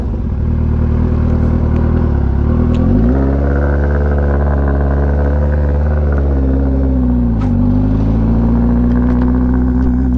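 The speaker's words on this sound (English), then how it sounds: "But let's take it out on the road." A Kawasaki ZX14R sport motorcycle ridden on the road, its engine loud and close with a steady drone that dips and rises as the rider shifts and accelerates.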